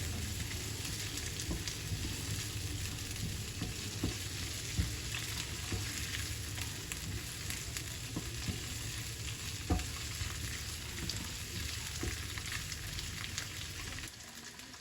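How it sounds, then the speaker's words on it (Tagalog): Steady sizzling of garlic and onion frying in a pan, a continuous crackle with occasional stirring scrapes, no voices. "Prito-prito ng konti."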